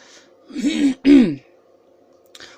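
Two harsh throat-clearing coughs in quick succession, close and fairly loud, followed by a faint click and quiet background hum.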